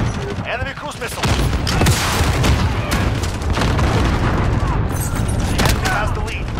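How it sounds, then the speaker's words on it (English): Cruise missile strikes in the video game Call of Duty: Modern Warfare, a sustained barrage of heavy booms and rumbling blasts mixed with gunfire, loud and continuous, with a voice talking over it. "Enemy cruise missile!"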